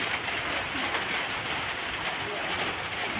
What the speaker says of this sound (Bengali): বৃষ্টির আওয়াজে হয়তো তোমরা কম কম শুনতে পাচ্ছ তার কারণ বৃষ্টি হচ্ছে এখন